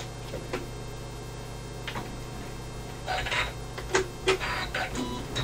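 Embroidery machine stitching a notebook cover, a soft steady hum under light ticking, then a quicker run of clacking needle strokes in the last few seconds.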